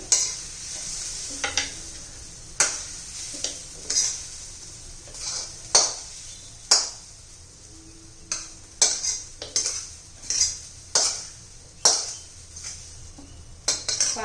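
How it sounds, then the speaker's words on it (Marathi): Leftover bhakri chivda is scraped and served from a pan onto a plate, giving repeated close metallic scrapes and clinks of a spoon at an irregular rhythm, with a soft sizzle underneath and no talking. "हे पहा प्लेट मध्ये काढून घेते मी"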